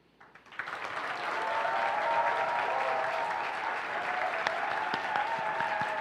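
Sustained audience applause fills a church campus-ministry appointment ceremony, building quickly after a quiet start into steady, dense clapping that holds for several seconds.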